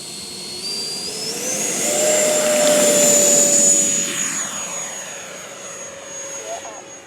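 An E-flite Viper RC jet's ducted-fan engine whines steadily as it takes off and lands, a high rising tone swelling louder as it passes close, then fading and shifting pitch as it moves away.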